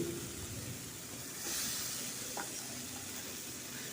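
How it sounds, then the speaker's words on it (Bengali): Potatoes and onions fry with salt in a pan, producing a steady, fairly soft sizzling hiss that continues without a break. "লবণ দিয়ে আলুগুলো পেঁয়াজগুলোর সাথে ভেজে নিচ্ছি"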